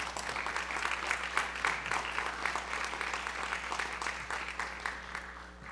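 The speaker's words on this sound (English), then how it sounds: "Another round of applause." Audience applause at a school board of education meeting, a steady sustained clapping from a room of people that holds fairly even throughout without talk over it.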